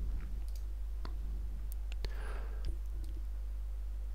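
A computer mouse clicks a few times during a 3D rigging tutorial for a Lego car, producing faint, sharp, isolated ticks spread over a few seconds against a low steady hum.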